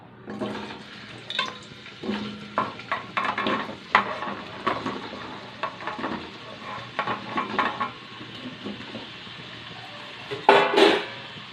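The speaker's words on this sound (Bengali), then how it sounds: "তেলটা গরম হয়ে গেছে, এবার আলুগুলো দিয়ে দেবো।" Potatoes going into hot oil for a soybean curry: a rushing, watery sizzle with clattering pan and utensil knocks, rising and falling close by, ending in a louder burst of clatter.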